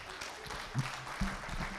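Audience applause at the close of a lecture on Ghana's population prospects, a steady wash of clapping from a crowd under a voice speaking over it.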